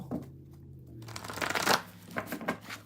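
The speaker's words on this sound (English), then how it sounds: "after I shuffle. Gotta shuffle." Tarot cards shuffled by hand in a quiet room, a few soft riffles and brisk flutters building into a louder burst midway, then settling into lighter shuffling.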